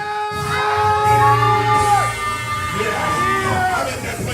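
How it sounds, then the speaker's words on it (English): Church congregation shouting during a sermon, a loud sustained roar of many raised voices and whoops with a preacher's voice ringing over the crowd throughout. "Open your mouth and shout."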